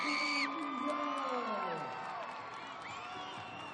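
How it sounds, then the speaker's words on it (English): A crowd at a college gymnastics meet between Utah State and Southern Utah cheers and whoops loudly, with high shrill voices sliding downward before the roar eases into a softer, sustained murmur. "The crowd is into this one."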